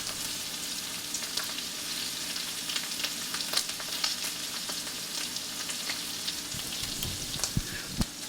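Minced onion fries in a pan with a steady, crackling sizzle, dense and even throughout, with occasional louder pops and spits near the end.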